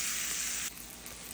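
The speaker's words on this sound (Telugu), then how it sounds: "ఇప్పుడు చూడండి, నేను తాలింపు వేస్తున్నాను." Curry leaves, urad dal, mustard seeds, cumin and a little asafoetida tempering in hot oil for a bottle gourd kootu, giving a loud, close sizzle that drops to a softer crackle partway through.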